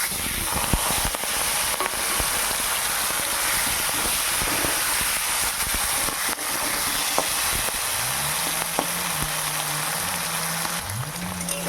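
Prawns frying in hot oil in a pan, a steady dense sizzle throughout, with a few clicks and a low tonal hum or voice-like sound rising near the end.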